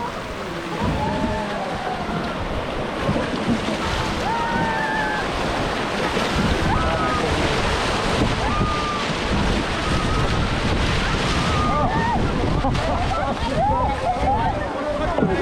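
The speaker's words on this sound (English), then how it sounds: "The boat went through rocks and rapids, guided by 3 boatsmen." A boat guided by three boatsmen runs through river rocks and rapids in Kyoto, with continuous loud rushing water and wind buffeting the microphone, while people talk over the steady roar.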